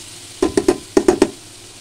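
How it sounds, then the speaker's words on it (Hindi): Spices roasting in a pan while cooking a gram flour (besan) curry, heard as six short scraping stir strokes in two quick groups of three, fairly close and alone. "और सारे मसालों को हम ऐसे ही भून लेंगे, अभी पानी नहीं डालेंगे"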